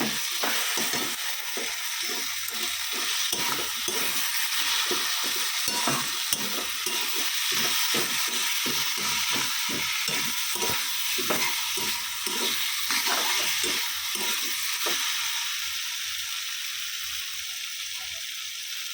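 Masala with ground cumin sizzling in hot oil for a duck egg curry while a spatula scrapes and stirs the pan in a steady repeated rhythm, close and continuous, the stirring easing off near the end.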